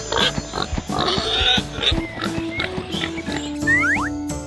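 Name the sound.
pig grunting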